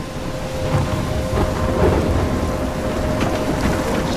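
Thunderstorm with steady heavy rain in the Life Is Strange video game, a dense continuous wash of rainfall with low rolling thunder rumbling underneath, loud and enveloping throughout with no speech.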